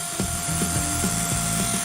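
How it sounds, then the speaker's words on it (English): Masonry drill with a mortar bit boring holes into a garden wall to set hooks for chicken wire, a steady close whine with a faintly pulsing grind and no talk. "using a mortar bit to drill the holes"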